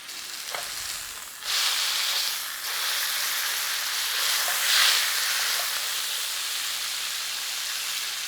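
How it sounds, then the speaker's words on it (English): Beef searing in hot rice bran oil in a pan before going into an Instant Pot, a steady bright sizzle that jumps louder as the meat goes in and keeps hissing, with a few small clicks and a brief flare partway. "Heat up that pan, and then we're going to sear that beef before it goes in the instant pot."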